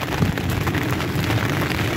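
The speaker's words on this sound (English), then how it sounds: "the rain's come on quite strong" Heavy rain pours down during a fishing session at Abbotsbury, a dense, loud, steady hiss with low rumbling drumming on a nearby surface, unbroken and without speech.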